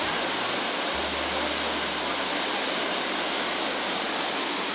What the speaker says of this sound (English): Look at that beautiful waterfall. I love how it's coming cascading down like that.